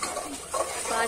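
Spices and salt fry in a pan, producing a close, continuous sizzle with a brief stirring scrape in the middle, loud and without voices.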